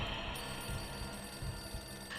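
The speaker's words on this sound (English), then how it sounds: "Phone!" Telephone in a Nancy Drew mystery video game rings with a repeated electronic bell tone, pulsing in short regular bursts over a low background hum, fairly quiet and without speech.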